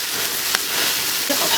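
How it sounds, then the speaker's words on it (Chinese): Chopped chili paste sizzling as it is stir-fried in a wok over a fierce flame, a steady, dense crackle that runs through the whole stretch with a few brief scrapes of stirring. "一碗的剁辣椒，去炒。"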